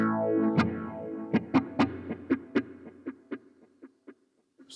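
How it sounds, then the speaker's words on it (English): Electric guitar notes through a Marshall MG2CFX amp with reverb and delay, picked one after another in a steady rhythm, each ringing into a spacious, echoing tail that trails away as the notes fade. "I'm going to bring some reverb in there as well"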